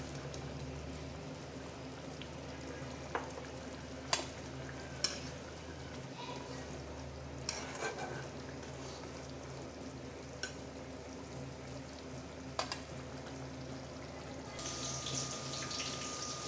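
Chital fish koftas simmer in a spice gravy in a pan, giving a steady low bubbling sizzle with occasional stirring clinks and taps, fairly close and without speech.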